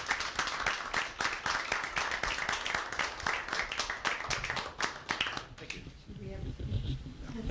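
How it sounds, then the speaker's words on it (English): A meeting crowd breaks into a round of applause, a dense patter of many hands clapping at moderate distance that tapers off and gives way to murmuring voices. "could we give him a round of applause?"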